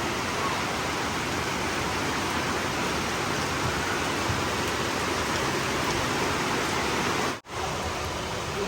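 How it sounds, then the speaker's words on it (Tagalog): Heavy rain pours steadily outside a house, a dense, loud, continuous hiss that fills the whole clip with one brief dropout near the end. "Lakas ng ulan."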